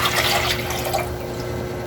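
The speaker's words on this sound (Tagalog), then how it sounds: "Ilagay na po natin yung tubig at pinaghugasan po ng bigas." Water left from washing rice being poured into a cooking pot, a continuous splashing, trickling pour that holds steady for the whole short stretch.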